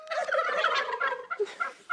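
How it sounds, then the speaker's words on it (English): Turkeys on a family homestead gobble in a loud, close burst of rapid warbling calls that trails off into shorter gobbles, with no human voices. "And then we got the turkeys and goats over here."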